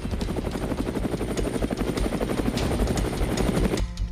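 Steady, loud rotor chop of a military helicopter flying close by, a continuous rhythmic thudding throughout with no speech.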